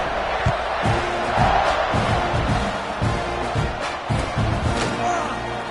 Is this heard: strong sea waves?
no